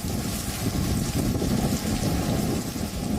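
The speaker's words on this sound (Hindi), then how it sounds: "इस शोर को सुनिए और हवाओं के साथ हो रही मूसलाधार बारिश की भयावहता को देखिए" Torrential rain driven by storm-force winds of Cyclone Yaas at the Odisha coast near Paradip, a dense, unbroken roar of downpour and gusts, loud and steady throughout with no voices.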